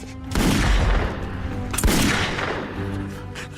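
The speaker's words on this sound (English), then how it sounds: "She fired 2 more shots." Two loud gunshots from a handgun, close and sharp, each followed by a long booming echo.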